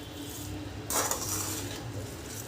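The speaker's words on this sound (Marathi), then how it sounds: "त्याला मी पाच मिनटं असंच परतून घेते" A spoon stirs dalia (broken wheat) sautéing in a pan, with a soft steady scrape and one brighter metallic clink against the pan, close and quiet with no talking.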